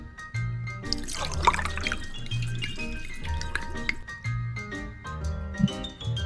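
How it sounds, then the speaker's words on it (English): Whiskey poured from one bottle into another, a close liquid gurgle with rhythmic glugging bursts and splashes that continue throughout. "The first thing I'll do is pour this good stuff into this bottle here."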